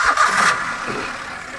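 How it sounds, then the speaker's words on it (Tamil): A three-cylinder car engine cranks and catches, then settles into a steady, low idle hum with strong vibration; close by and fairly loud. "வண்டி நம்ம ஸ்டார்ட் பண்ணி ஐட்லிங்கில் பார்க்கலாம்"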